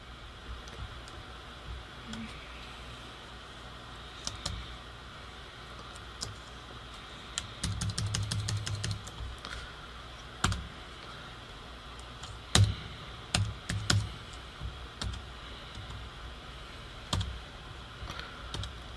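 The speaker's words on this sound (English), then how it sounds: "My keyboard on this old computer kind of sucks." Typing on an old computer's keyboard, with sparse key clicks at first that turn into dense bursts of clattering keystrokes midway and then scattered presses over steady background hiss.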